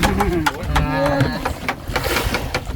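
A nearby bird gives warbling, cooing calls over a background of clatter and tapping, with several calls in quick succession.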